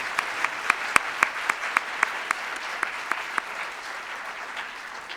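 Crowd applause at a Martin Luther King Jr. convocation fills the clip, steady and dense, with a series of sharper claps standing out rhythmically near the front before it slowly fades.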